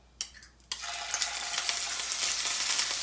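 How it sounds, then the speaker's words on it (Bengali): Ginger paste hits hot oil with bay leaves and dried red chili, bursting into a sharp sizzle after a couple of small clinks, then a steady, close crackling fry with stirring that grows denser over a few seconds. "অল্প করে একটু ভেজে নেওয়ার পর এবার আমি দিয়ে দিচ্ছি এর মধ্যে আদা বাটাটা"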